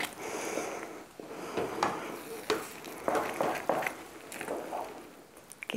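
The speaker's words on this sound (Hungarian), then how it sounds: "Gyorsba forrón elkavarom." A spoon quickly stirs a hot apple filling with a little cinnamon in a pot, giving close scraping swishes and faint sizzling in uneven bursts, without talk.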